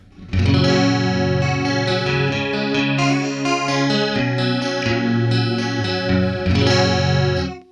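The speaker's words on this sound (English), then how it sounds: "Let's go to both a downshifted and an upshifted sound." Electric guitar chords run through an Electro-Harmonix Pitch Fork polyphonic pitch shifter set to both downshift and upshift, layered shifted voices giving a thick, chorus-like shimmer, played loud with a brief pause midway.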